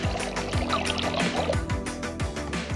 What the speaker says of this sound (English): All you need to do is tip it over to get the water into the water chamber.